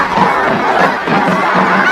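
A large crowd roars and chatters at a pyramid sacrifice in the film Apocalypto, a dense, loud, continuous wall of massed voices with no single shout standing out.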